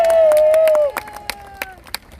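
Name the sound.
audience applause after a lecture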